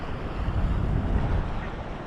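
Choppy sea slaps and churns around a small fishing boat, a dense, loud wash of water and wind noise close to the hull, with no talking.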